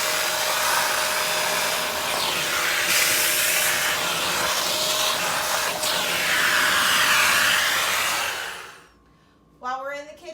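Vacuum cleaner fitted with an attachment tool working along carpet edges gives a steady, loud high-pitched whooshing hiss for most of the stretch, then cuts off abruptly near the end before a short, faint voice.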